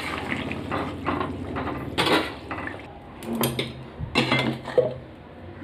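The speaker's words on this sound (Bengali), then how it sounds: "ঢেলে নিচ্ছি" Katla fish curry being poured out of a cooking pot: close clattering of the pot and utensil, scraping and a soft liquid slosh in a few bursts, moderately loud with no voices.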